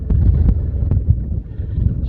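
Strong gusty wind buffets a handheld camera on an exposed gritstone ridge of the Roaches in the Peak District, a loud, continuous low rumble of wind on the microphone with sharper gust thumps throughout.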